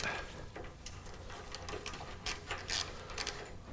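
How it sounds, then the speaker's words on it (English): A socket wrench with a 14 mm deep socket works loose the muffler nut on a Porsche 996, giving close, quick ratcheting clicks and metallic ticks over a steady low background. "We're going to start to take this muffler out by removing this nut here"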